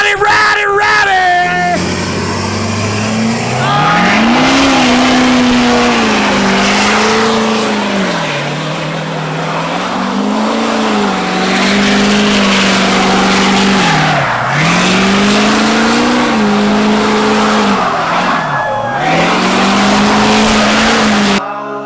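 A lifted Ford F350 truck does burnouts, its engine revving loud and close in repeated rising and falling surges with tire hiss underneath, while voices talk in the background.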